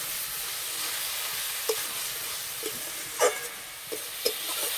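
Cabbage filling for a stuffed paratha stirred in a pan, a soft steady sizzle with a few faint spatula scrapes and taps scattered through, fairly quiet and with no talking.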